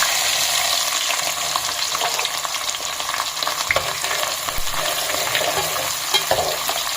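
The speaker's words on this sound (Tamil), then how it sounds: "வெந்தயம் சிவந்ததும் சின்ன வெங்காயம் போடணும்." Small shallots and fenugreek seeds fry in hot oil in a pan for village-style Tamil mutton curry, giving a steady close sizzle with occasional stirring scrapes and crackles throughout.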